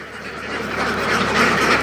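Ducks kept by a young duck herder quack in a rough, overlapping chorus, close and fairly loud, swelling toward the end.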